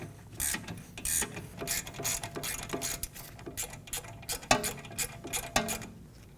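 A 7mm Allen key works the rear brake caliper bolts loose on a 2018-2024 Volkswagen Tiguan, giving rapid close ratcheting clicks in quick irregular bursts, fairly loud, with no talking.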